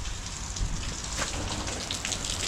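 Heavy rain pouring steadily outside a barn, a dense continuous roar of drops drumming on surfaces, loud and close with no voices.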